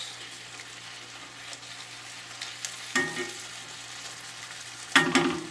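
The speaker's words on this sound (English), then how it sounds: "Now we're going to add the shrimp and the juices and everything that's good." Shrimp and their juices simmer in a spicy fra diavolo tomato sauce in a pan, a soft continuous sizzle with a few louder bubbling, stirring bursts near the end.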